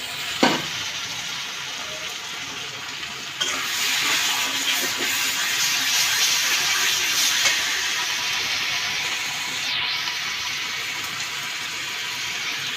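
Onion with ginger, garlic and cumin paste stir-fries in a pan for a beef head skin dish, giving a steady close hiss and sizzle with occasional clinks of stirring throughout.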